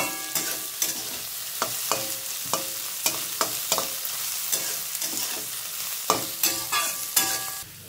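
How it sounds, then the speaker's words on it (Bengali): Chicken and rice frying in a pan for fried rice, a steady sizzle broken by a long series of sharp, regular scrapes and clacks of a spatula stirring, close and fairly quiet, with no talk. "এটা সুন্দর করে এখন ফ্রাই করবো। সুন্দর করে ভাজবো"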